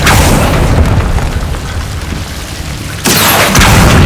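A Confringo spell explodes in Hogwarts Legacy gameplay: a loud, dense roaring blast that fills the whole clip, dipping slightly then surging again with a second burst near the end.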